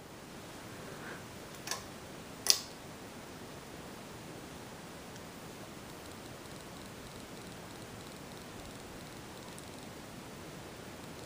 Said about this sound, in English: Now I'm going to show the fan running and begin with the very highest speed